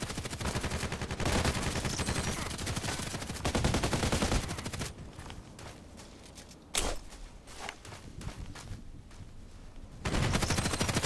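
Gunfire in the video game Contract Wars: loud, dense automatic bursts rattle for the first five seconds, a single sharp shot cracks near the middle, and another heavy burst erupts at the end.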